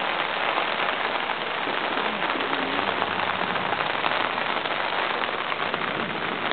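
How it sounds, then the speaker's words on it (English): Heavy rain pouring steadily during flooding, a dense, even hiss of drops hitting surfaces, close and loud with no breaks and no talking. "we need the rain. No more water drought."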